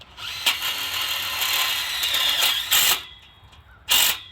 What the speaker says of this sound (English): You can put them in with a regular drill, but this impact driver works very well.